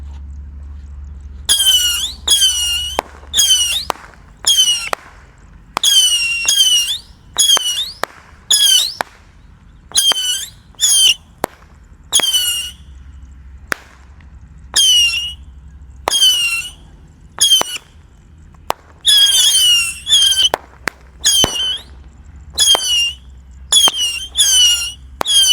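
A 25-shot firework rocket box fires a long run of shrill whistling shots, each screaming rise ending in a sharp crack, coming in irregular clusters across the whole stretch.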